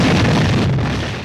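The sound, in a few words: explosion from a shed in a story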